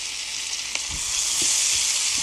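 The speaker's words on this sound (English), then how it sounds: "So I get this butter and this oil melted down. And now I'm going to come back with an onion." Chopped onion sizzles in melted butter and oil, a steady bright frying hiss with a few soft low thumps of stirring, close and continuous.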